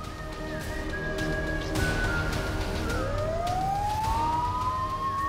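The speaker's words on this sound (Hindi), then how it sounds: "एम्बुलेंस आ गई।" An ambulance siren wails steadily, its pitch rising and falling in long sweeps, loud and close over continuous traffic rumble, with no talking.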